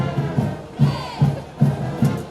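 Crowd noise at a high school football game between the Titans and Garfield, with rhythmic bursts of cheering and chanting rising and falling several times, moderately loud and continuous.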